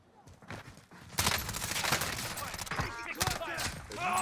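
Video game gunfire in Warzone, dense bursts of rapid shots and sharp cracks that start faint and become loud and sustained, with a voice talking over the action.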